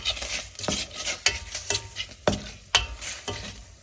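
Pasta being stirred into sauce in a pan on the fire, with several sharp scraping and clattering strokes of a utensil over a faint sizzle, close by and without talk.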